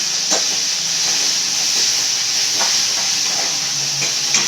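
Tomatoes tossed onto sautéed onions for a fish curry give a loud, continuous steamy hiss in the pan, with faint stirring taps here and there and no talking.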